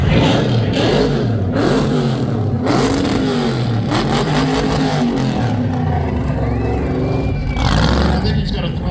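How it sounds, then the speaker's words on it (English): A 1969 Pontiac GTO fitted with an LT5 engine, with a sticky throttle return spring, revs repeatedly at an outdoor car cruise, its engine note rising and falling loudly under people talking nearby. "I think he's got a throttle return spring problem."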